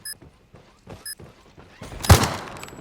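A single loud gunshot burst in the mobile shooter Call of Duty Mobile, preceded by a few soft thumps and clicks, with a short decaying tail.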